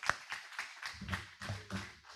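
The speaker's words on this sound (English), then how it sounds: "Big round of applause." Applause for a sponsorship committee at a Rotary Club hybrid meeting, with a room of people clapping steadily and moderately loudly for about two seconds.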